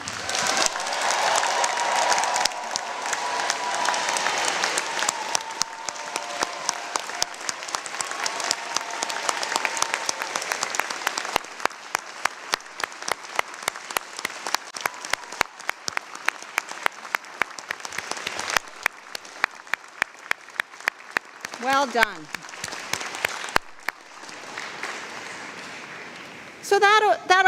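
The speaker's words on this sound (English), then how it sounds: "So that applause was okay, but I think we can do better." A convocation audience applauds the graduating class of 2021 at a university ceremony. The clapping is dense and sustained, then thins into scattered separate claps near the end, with a brief spoken remark over it.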